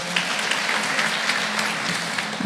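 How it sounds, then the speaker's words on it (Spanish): A church congregation at a Spanish-language Baptist service claps together in steady, dense applause that lasts a couple of seconds. No voices can be heard over it. "Démosle un fuerte aplauso al Señor."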